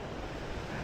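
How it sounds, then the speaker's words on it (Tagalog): Strong waves breaking at Alona beach on Panglao Island, Bohol, during rain, a brief, dense roar of surf mixed with wind buffeting the microphone. "Umuulan, malakas ang alon,"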